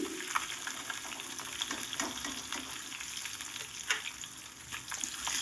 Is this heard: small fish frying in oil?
yes